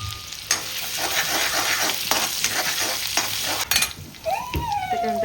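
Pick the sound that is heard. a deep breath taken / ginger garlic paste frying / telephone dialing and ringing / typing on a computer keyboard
ginger garlic paste frying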